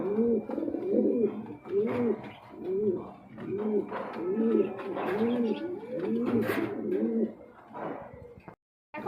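A pair of yellow Sirazi pigeons coo in repeated, rolling low phrases close by, with faint background noise and a brief silence near the end.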